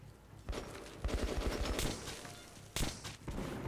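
Enemy gunfire rips at the player in the video game Metro 2033, sharp shots and rapid bursts arriving in uneven clusters with short lulls between them, loud and close.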